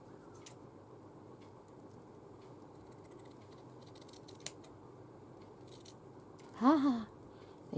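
Large scissors make a couple of faint snips through paper, then one louder, close crisp cut with a short rasping slide near the end, over a quiet room.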